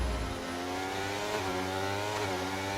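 Formula 1 cars in the racing game F1 23 scream down the Monaco pit straight at night, a loud high-revving engine whine holding steady and climbing slightly as the cars pass close by.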